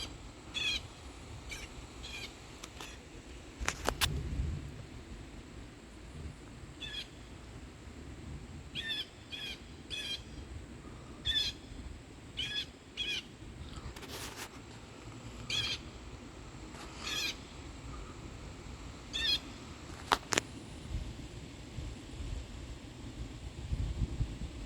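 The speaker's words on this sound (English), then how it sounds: "I must have got that bird." A bird calls outdoors during a summer afternoon storm, with short repeated chirps scattered through a steady hiss of weather noise, moderately close, with no voices.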